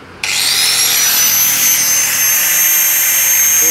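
A hand-held angle grinder spins up and cuts into a metal padlock, a loud sustained high-pitched whine and scream of the disc on steel that starts abruptly and holds steady close to the listener.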